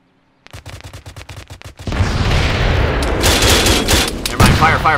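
Gunfire in an ArmA 3 convoy ambush: a rapid burst of separate loud shots, then a dense continuous roar of automatic fire and booming explosions, close and intense.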